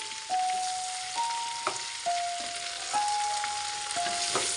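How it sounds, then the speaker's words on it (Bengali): Mango pickle with black mustard paste is stirred in a pan, giving a steady soft sizzle with a few sharp scrapes and knocks of the spoon spaced through it, close and moderately loud, with no voices. "সরিষা বাটা দিয়ে আবারও একটু ভালোভাবে নেড়ে ছেড়ে নিচ্ছি"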